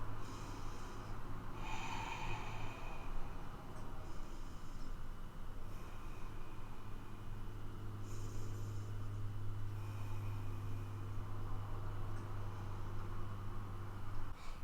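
Soft, slow breaths during a yoga forward fold come in a few audible rounds, with faint airy inhales and exhales over a low, steady background hum.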